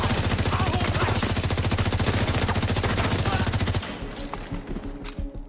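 Rapid, sustained machine gun fire in The Division's Battle for Brooklyn setting, a loud steady stream of automatic bursts that cuts off partway through, leaving scattered fainter shots and game noise.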